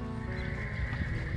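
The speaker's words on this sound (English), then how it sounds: "It's a nice, sweet horse." A horse neighs in a sustained whinny, close and loud throughout, with hoof clip-clop mixed beneath; the horse is a gentle Western mare once mistreated on a ranch.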